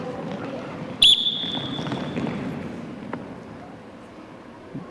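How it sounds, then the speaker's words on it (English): A single sharp, loud whistle blast rings out in a classroom during a movement activity, briefly sustained then trailing off, set against a background of children's shuffling, footsteps and faint chatter. "Listening for the whistle."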